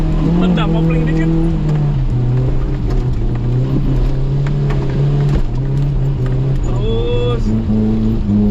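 Suzuki Jimny engine held at higher revs in second gear as it turns on dirt, a steady droning note that shifts pitch slightly, with people talking over it.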